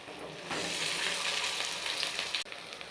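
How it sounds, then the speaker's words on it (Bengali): Vegetable pakoras fry in hot oil with a dense, close, continuous sizzle that swells as more batter goes in, with a brief clatter near the end. "এবার আমি এই যে দেখছেন একে একে আমি পকোড়াগুলো সব ভেজে নিচ্ছি।"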